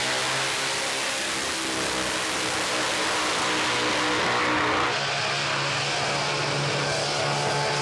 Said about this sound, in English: Steve's brother Craig goes one better in his howling Camaro